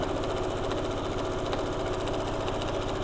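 Sewing machine stitching quilt fabric, a steady rapid mechanical whir with fast regular needle ticks, close and continuous without a break.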